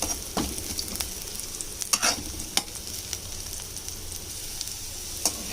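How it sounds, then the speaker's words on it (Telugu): Onions and a little carrot sizzle steadily in a hot pan while a spoon scrapes and stirs them, with several sharp clinks against the pan's metal over the constant frying hiss. "ఇప్పుడు ఫ్రై అయినాయి కాబట్టి ఆనియన్స్, కొంచెం క్యారెట్ వేసుకోవాలి"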